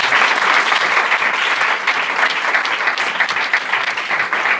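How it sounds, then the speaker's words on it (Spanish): Sustained, loud audience applause at a conference on access to justice, a thick, even roar of many hands clapping that carries on without pause. "Un aplauso para ella"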